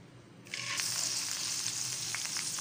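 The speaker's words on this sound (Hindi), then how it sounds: "अब हम इसको भूनेंगे व्यूवर्स उस वक्त तक जब तक ये प्याज जो है वो भुनकर दानेदार ना हो जाए" Onion paste made from two medium onions hits hot oil and erupts into a loud, steady sizzle and crackle of frying, rising sharply after a quieter start and continuing close and dense throughout, with no talking.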